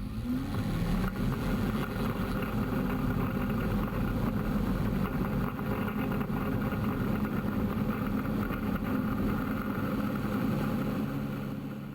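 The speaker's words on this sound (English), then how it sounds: "Let's look at a takeoff." A light aircraft takes off from Popham Airfield near a wind farm, its engine a loud, steady drone that holds for the whole stretch without a break, with no voices.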